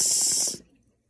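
Water rushing to rinse ash from a bong, a loud close hissing spray for about half a second before cutting off into near silence.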